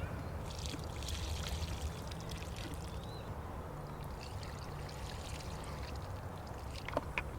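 Plain water mixed with organic fertilizer is poured around a potted blueberry plant, giving a steady, soft pouring and trickling wash that lasts throughout, with a small splash near the end.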